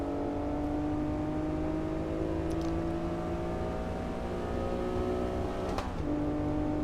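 A Honda NSX engine in Assetto Corsa holds a steady, loud drone that climbs slowly in pitch, with a brief shift blip near the end before settling back, and no voices.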